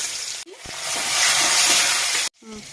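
Cumin seeds drop into hot oil for a poppy-seed fish dish and give off a loud, steady sizzle and hiss. The sizzle starts and stops abruptly between brief pauses.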